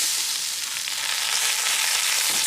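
Washed, drained rice fries in hot ghee with a steady, dense, close sizzle that holds evenly throughout with no talk.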